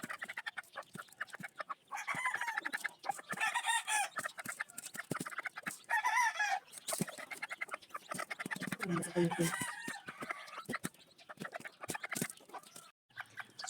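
Newly hatched chicks peeping and cheeping while being fed and given water, a busy stream of high, close chirps with a voice talking now and then.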